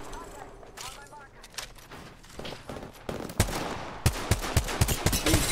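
Video game gunfire from Apex Legends crackles in rapid bursts, growing louder toward the end with sharp repeated shots, mixed under a player's talking and background game noise.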